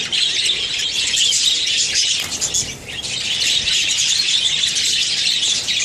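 A budgie squawks and screeches loudly and continuously at close range while being caught by hand in a colony of budgies, with a short dip in the shrill calls partway through.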